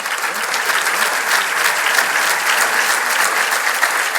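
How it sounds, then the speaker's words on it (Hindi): An audience of youth at a governor's address keeps applauding in a dense, steady wash of clapping, loud and unbroken for over four seconds with no speech on top. "वो बच्चा कितनी जोर से ताली बजा रहा है।"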